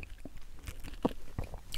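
Chewing on crispy deep-fried pork feet (jokbal) with a crunchy outer skin: close, irregular crunching and squishy bites repeat in quick succession with no talking.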